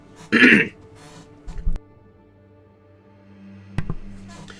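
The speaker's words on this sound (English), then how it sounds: "I had to cough" A single short, loud cough or throat clear from a person at a microphone, followed by quiet room tone and a couple of faint knocks.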